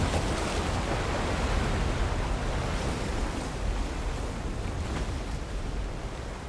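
Water rushes under intense pressure out of an opened pit, a loud, steady, broadband roar like surf that fills the whole stretch, with one brief spoken word.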